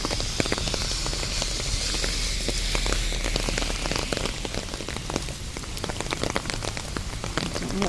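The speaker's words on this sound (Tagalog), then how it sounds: "Umuulan." Rain falls steadily outdoors while walking on a university campus, a dense, close patter of drops hitting surfaces with occasional sharper splats and no talking.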